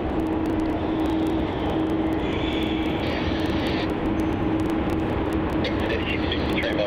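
An airliner passes over Melbourne Airport with a steady, broad engine roar that holds level throughout, and faint voices are heard beneath it.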